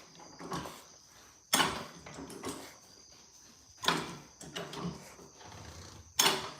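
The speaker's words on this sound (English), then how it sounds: "Now we're wrenching." Ratcheting and metallic clanks of a wrench turning on a car, coming in several sharp bursts with quieter working noise between, close and fairly loud.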